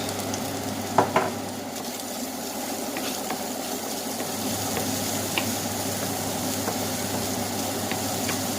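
Egg dish with soy and oyster sauce being stir-fried in a hot pan, a steady sizzle with a few sharp clatters of the spatula early on.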